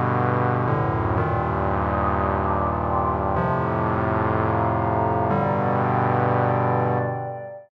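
Three stacked synth layers from the free 1996 Steinberg Neon VST plugin playing together, a loud, buzzy, distorted sustained chord that shifts several times before fading out, with no voices.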